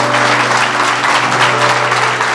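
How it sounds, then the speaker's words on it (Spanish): A church congregation applauds steadily and loudly for the whole stretch, a dense wash of clapping with a low hum beneath it. "quiero que le levante el mejor aplauso al Espíritu Santo que está en este lugar"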